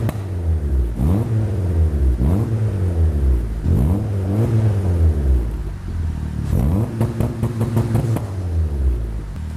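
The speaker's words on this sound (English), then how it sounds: "warm it up, and then give it a few revs, see what it sounds like" A Honda Civic Turbo with a full custom exhaust system revs repeatedly near the listener, sharp rising blips over a steady idle rumble, ending with a quick burst of stuttering pops.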